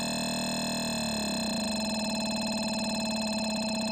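A Tonverk synthesizer plays a sustained wavetable tone with a wider loop window. It starts as a steady drone, and after about a second it shifts into a denser, pulsing texture. The tone is held and unchanging, with no voices.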